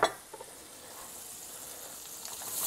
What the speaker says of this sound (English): And we're going to put a little butter into a pan.